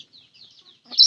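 Chickens on a farm where chicks are hatching, giving a few soft, brief clucks and chirps followed by a sharper louder call at the end, close by.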